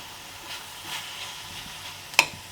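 Food sautéing on a stove, with a soft continuous sizzle, a few scraping stirs and one sharp clink of utensil on the pan near the end, all close and with no talking.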